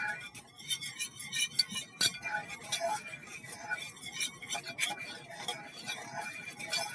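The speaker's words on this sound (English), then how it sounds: "Add my sugar and my spice. Just mix that together nicely." Sugar and spice for French toast stirred together in a bowl, giving light clinks and scraping taps of a utensil against the dish, close and fairly quiet with a steady busy rhythm.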